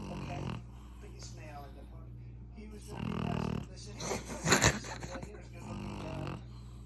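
A spoiled pug dozing in comfort snores in repeated rasping, snorting breaths, close and fairly loud, rising and falling every second or two.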